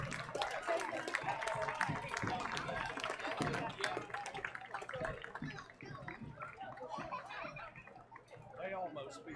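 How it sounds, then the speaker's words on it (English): A crowd at a high school football game applauds the seniors, a broad wash of clapping and cheering strongest at first, then thinning while people talk nearby. "let's give our seniors a well-deserved round of applause"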